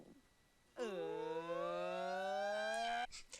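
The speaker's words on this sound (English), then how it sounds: "It really sounds like a siren." A single rising, wavering tone swells and holds for about two seconds like a siren wail, close and clear, then cuts off.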